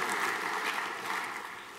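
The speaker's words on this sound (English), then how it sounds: "Round of applause for Santa." A chapel audience applauds Santa at a morning service, with steady broadband clapping that fills the whole stretch at a moderate, even level and carries no voices.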